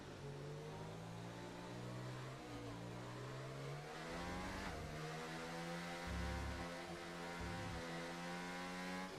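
A race car in a racing video game accelerates steadily, its engine note climbing through repeated gear changes, loud and continuous with no talk.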